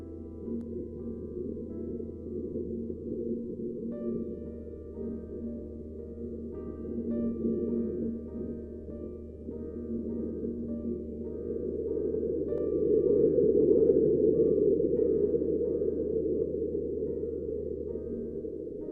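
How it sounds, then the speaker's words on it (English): A low rumble recorded on Mars, like something passing underground: a faint, steady deep hum and muffled drone that slowly swells to a broader rushing roar in the latter part, with no voices. "let me play you this and tell me if this doesn't sound like something very quickly passing by underneath the surface"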